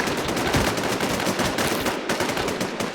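Rapid, loud video game gunfire, dense automatic bursts with overlapping shots firing continuously and close up for the whole three seconds.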